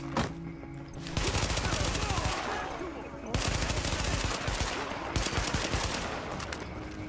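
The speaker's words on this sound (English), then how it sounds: "I'm trying to shoot in bursts to conserve ammo and increase accuracy." Sustained bursts of automatic gunfire in the open-world shooter The Division, loud rapid volleys separated by short pauses, with no talking.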